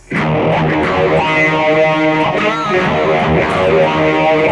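A dry, distorted electric guitar through a BOSS eBand JS-10, set for a 1960s-style tone, plays sustained chords, loud and steady throughout, with no audible reverb tail or room echo.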